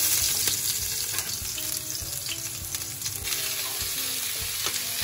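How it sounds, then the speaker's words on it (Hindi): Steady, loud sizzling and crackling of asparagus frying in a hot pan, with occasional stirring scrapes throughout. "इसके अंदर जो है स्पार्गल मैं फ्राई करूँगी"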